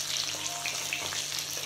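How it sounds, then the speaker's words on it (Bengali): Fish frying in hot oil gives a short, continuous, close sizzle at an even level, with no voices. "প্রথমে মাছগুলো সব ভেজে নেবো"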